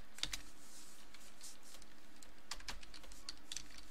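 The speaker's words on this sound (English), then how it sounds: "I am going to go ahead and type" Rapid keystrokes on a computer keyboard while a command is entered at a terminal, light close clicks in quick irregular bursts with brief pauses, alone in a quiet room.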